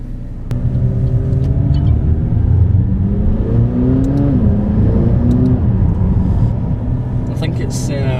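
A McLaren 570S supercar pulling away and accelerating, a loud close engine rumble rising in pitch through the gears, with people talking in the car.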